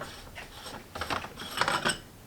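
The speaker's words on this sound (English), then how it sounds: "you just spin the rotor lock off of the back." Rotor lock ring being spun off the back of a William Optics FLT91 telescope, giving soft, close, ratcheting metallic clicks and scraping in a few short bursts.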